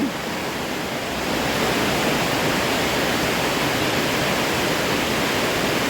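Heavy rain pours down in town as a dense, unbroken roar of broadband hiss, steady and loud throughout with no voices.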